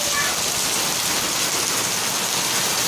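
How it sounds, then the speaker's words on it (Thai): Heavy rain pours down in a strong windstorm during a hailstorm at a house in Chiang Mai, a dense, steady roar of downpour filling the scene without pause. "ฝนตกแบบกระหน่ำมากนะครับ"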